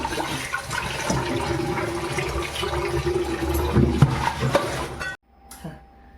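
Goat mutton rinsed under water, a loud continuous rush of running and splashing water for about five seconds that cuts off abruptly, leaving a faint quiet tail.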